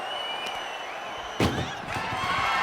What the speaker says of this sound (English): Shut the doors and this one's over.